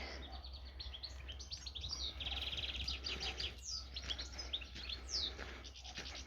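Several birds chirp and trill outdoors at close range, quick bright calls overlapping over a low steady background hum.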